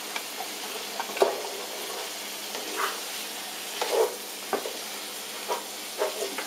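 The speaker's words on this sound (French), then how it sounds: "On fait revenir le steak haché dans une poêlonne qu'on a fait préalablement chauffer avec du beurre." Ground beef browning in butter in a hot small pan, a steady soft sizzle broken by occasional stirring scrapes and pops, close and moderately quiet with no talking.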